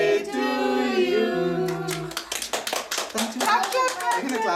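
Hands clapping at a child's birthday party: a short burst of rapid, uneven claps follows a sung tune, with children's voices mixed in.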